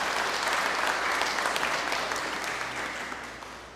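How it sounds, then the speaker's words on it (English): A parish congregation applauds during morning Mass, a hearty, dense round of clapping that holds strong before tapering off over a few seconds. "That applause is almost as hearty as coffee and donuts."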